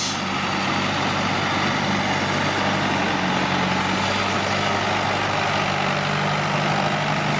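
A heavy tractor engine runs steadily at idle, a continuous low rumble with a constant hiss, close and unbroken.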